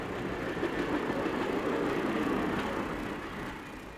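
Southern Pacific 2472, a steam locomotive with giant drive wheels, pulls a passenger train. A steady, fairly faint rumble of the train rolls along without pause, with no talk.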